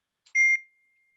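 A timer gives a single short, high electronic beep to mark the end of time, heard alone in silence.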